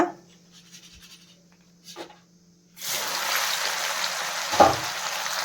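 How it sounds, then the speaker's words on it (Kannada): Garlic hits hot oil in a pan already holding fried chana dal for a poha snack, and a steady close sizzle starts suddenly and keeps going, with a small pop partway through. "ಈಗ ಬೆಳ್ಳುಳ್ಳಿ ಚೆನ್ನಾಗಿ ಫ್ರೈ ಆಗಬೇಕು"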